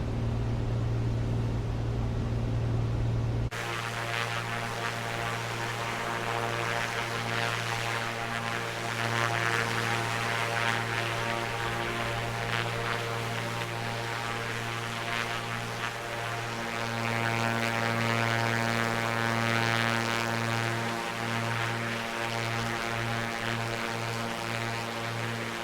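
A2A Comanche propeller aircraft droning steadily in flight in a flight simulator, a constant engine hum with harmonic tones and broadband noise running the whole time, loud and near.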